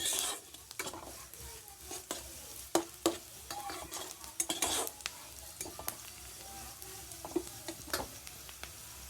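Onions frying in a wok for mashed potatoes, a steady close sizzle broken by repeated sharp scrapes and clinks of a spatula stirring against the metal pan, no talk.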